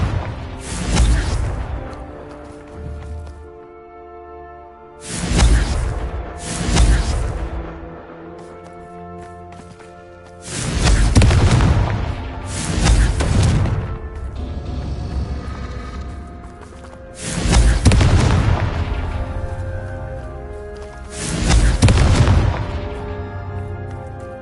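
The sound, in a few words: Confringo blasting spell explosions in a Harry Potter video game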